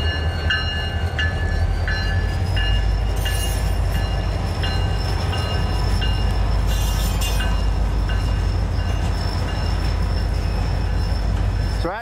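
Union Pacific train led by F40 locomotives with a slug rolls past at close range, a loud continuous rumble of engines and wheels with steady rail clatter running throughout.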